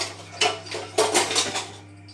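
Frying pan and cutlery clink and clatter while tofu is being cooked, giving a few separate metallic knocks and scrapes at close range over a steady low hum.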